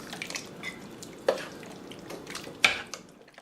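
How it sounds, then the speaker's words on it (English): A pot of Chinese-style curry beef brisket gets a final stir, with quiet scraping and two sharp clinks of the utensil against the pot rim, heard alone at close range. "So give that one last stir before serving."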